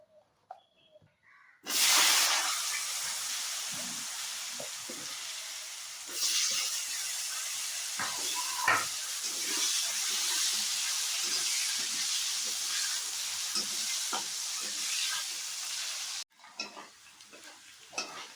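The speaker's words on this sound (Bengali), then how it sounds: "আমি এবার আলুগুলোকে ভেজে নেব" Steady broadband sizzling of potatoes frying in hot oil after fish, loud and continuous, with occasional stirring clinks and scrapes, then a brief pause near the end.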